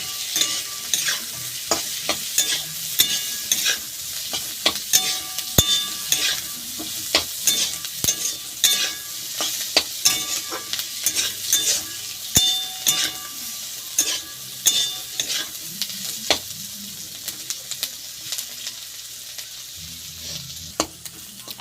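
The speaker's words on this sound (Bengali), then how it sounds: "আলু পেঁয়াজ কাঁচা লঙ্কা বেশ ভালো করে ভেজে নিয়েছি" Potatoes, onion and green chilies sizzle steadily in a pan over a long stretch, with frequent sharp clicks and scrapes of a spatula stirring close by. No one speaks.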